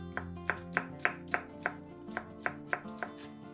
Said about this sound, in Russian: 1 красный сладкий перец разрезаем пополам и нарезаем небольшими кусочками